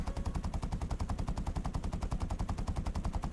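Rapid, rhythmic bursts of a .50 calibre machine gun in the War Thunder video game, a steady stream of heavy, punchy shots at an even rate, loud and close, with no talking over it.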